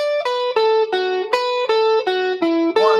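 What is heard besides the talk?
guitar alternate picking in groupings of four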